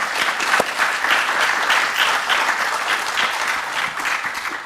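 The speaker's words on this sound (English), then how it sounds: "let's first give them a round of applause for making it out" A crowd at a 3D design and motion talk event in Toronto gives a steady round of applause for the panelists, dense clapping that slowly tapers off.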